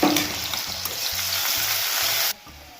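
Onions fry in a pan with cumin for upma, a loud, continuous sizzle over soft, rhythmic stirring knocks that cuts off abruptly near the end.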